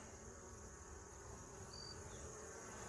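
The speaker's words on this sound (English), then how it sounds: "Got a few thousand bees in here." Honeybees hum steadily around an opened hive frame holding a few thousand bees, a dense, continuous buzz close by with no pauses, one agitated bee among them.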